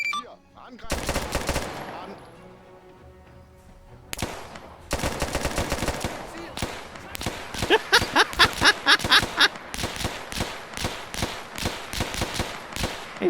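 Machine-gun fire rattles from a bunker in the war game Arma 3 during a D-Day airborne mission, with loud, close bursts of rapid shots separated by brief pauses and a faint voice underneath.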